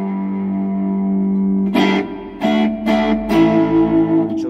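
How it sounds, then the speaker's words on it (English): An Orange amp reverb unit with built-in amplifier rings out a distorted guitar tone that washes into long reverb tails, with several sharp bursts striking over the sustained, echoing drone. "So we've got the reverb"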